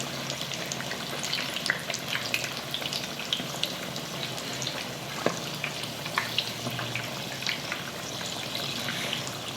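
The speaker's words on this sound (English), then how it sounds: "Okay, we deep frying on high heat." Steady crackling and bubbling of food deep frying in hot oil, a dense sizzle that carries on without pause and without any voices.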